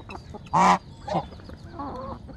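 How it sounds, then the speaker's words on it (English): Geese kept among backyard chickens and Brahma hens give a loud, harsh honk near the middle, followed by a softer call and a few fainter nasal honks close by, with no talking. "You even eating with geese."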